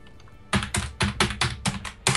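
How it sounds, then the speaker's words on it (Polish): A computer keyboard is pounded hard, with about seven heavy, evenly spaced slams after a brief quieter stretch, loud and close with no talk. "Nie wal tak tą klawiaturę"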